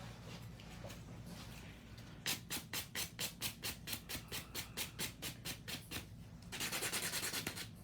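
Close, rhythmic back-and-forth scratchy strokes of a buffer on acrylic nails during an ombre V-line nail art job, quiet at first, then about a dozen even rasping passes that merge into a steady continuous rub at the end.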